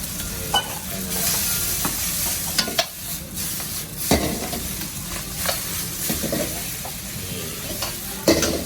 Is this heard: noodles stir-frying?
yes